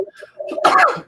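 A single sneeze in a podcast studio, a short intake followed by a loud explosive burst, close to the microphone, with brief talk just before it.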